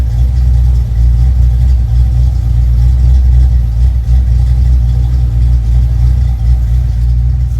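A Fox-body car engine idles steadily and loudly, a constant low rumble with no other sounds.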